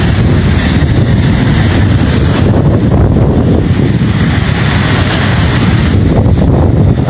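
Strong wind batters the microphone beside the Lagoa dos Patos, a continuous, loud, buffeting roar with a churning low rush of waves beneath it throughout.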